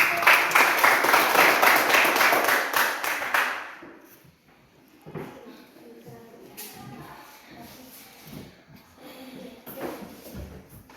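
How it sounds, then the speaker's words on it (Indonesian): Children in an elementary school classroom clap their hands together for about three and a half seconds, a loud, close burst that then stops, leaving faint shuffling, taps and soft voices. "Bagus ya, coba tepuk tangan."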